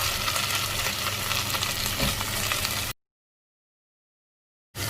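Tomatoes fry in oil over a low flame, giving a close, steady sizzle and crackle with stirring for about three seconds, then sudden silence before the sizzle briefly returns.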